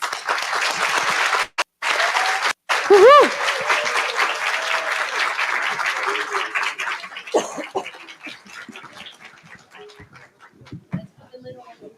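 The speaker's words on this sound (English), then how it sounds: "let's give them love and applause" An audience applauds a group of singers at a spiritist symposium afternoon session, a dense burst of clapping with a cheer that fades gradually over several seconds, with voices talking as it dies away.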